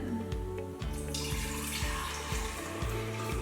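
Strained liquid is poured from a bowl into an old glass container, a steady close trickle and splash running the whole time beneath a low, rhythmic background hum.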